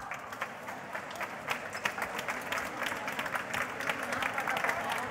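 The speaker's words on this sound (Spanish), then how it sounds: "quiero que demos un fortísimo aplauso a Rita Barberá" A crowd at a market cooking event in Ruzafa applauds for Rita Barberá, a fairly faint, continuous patter of clapping heard from a distance amid general crowd murmur.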